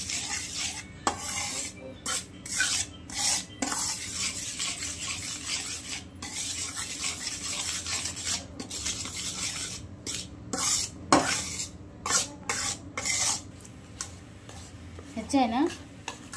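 A spoon stirs milk powder into cold milk in a metal vessel, giving steady rhythmic scraping and clinking strokes against the pot. The sound is close and fairly soft, with a few short pauses.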